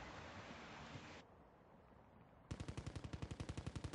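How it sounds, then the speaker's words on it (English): Call of Duty Modern Warfare 2 gunfire on PlayStation 5: a burst of noisy shots, a brief lull, then a rapid, evenly spaced automatic volley of loud, close cracks. "Somebody shot at me from over here."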